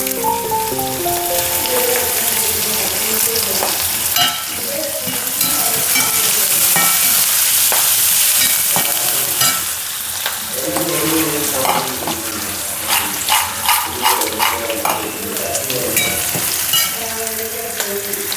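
Ginger, onion and green chilli fry in a pan for a bitter gourd fish curry, a loud continuous sizzle with stirring and tonal sounds in the background.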